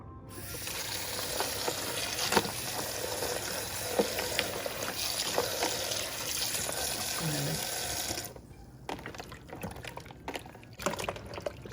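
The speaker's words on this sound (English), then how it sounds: "So I pour this water off." Water is poured off chicken pieces being washed in a kitchen, a continuous splashing stream close by for about eight seconds, followed by quieter drips and clatter.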